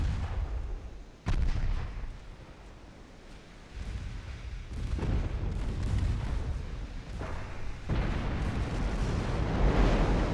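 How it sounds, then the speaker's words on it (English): Torpedo hits on a battleship during a naval battle in a war strategy game, deep rumbling booms and explosive bursts rolling one after another, heavy low blasts with a sharp onset after a brief lull. "We get torpedo hits on Idaho"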